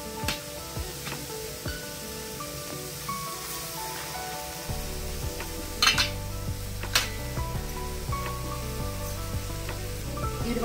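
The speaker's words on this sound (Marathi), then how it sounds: "हे सगळं मिश्रण ढवळत राहायचं आहे मीडियम गॅसवर।" A coconut, milk and sugar mixture stirred in a pan over medium gas, with a spoon repeatedly scraping and clinking against the metal and a soft sizzle underneath.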